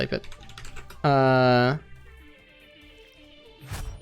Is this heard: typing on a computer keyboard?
yes